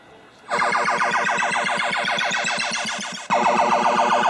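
A loud, continuous electronic warbling tone pulses rapidly and evenly, cutting out briefly near the end before resuming, from a Defender arcade machine's sound test.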